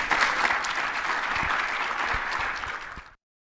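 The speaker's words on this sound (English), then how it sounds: "Big applaud to Jeff Park of Bitwise." A conference audience gives a round of applause for a speaker from Bitwise, a dense, even burst of clapping that holds for about three seconds and then cuts off abruptly into silence.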